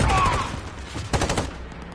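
Gunfire from the video game Call of Duty Warzone, a short burst of loud, rapid shots at the start followed by a second cluster of shots about a second later.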